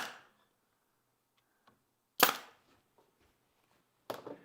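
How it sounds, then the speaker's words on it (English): Two sharp, loud snaps of a stapler driving galvanized staples into wood, well separated with quiet between them and a couple of faint clicks. "I'm shooting a galvanized staple here."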